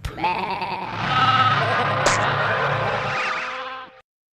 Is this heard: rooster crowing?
no